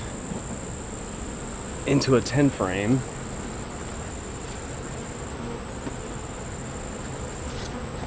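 Honey bees being moved into a ten-frame hive box during a colony split make a low, continuous hum alongside a thin, constant high tone, with a short stretch of speech near the start.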